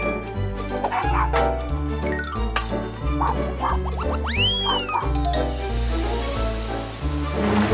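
A cartoon dog in a children's animated series barks in a few short yips over bouncy background music and cartoon sound effects.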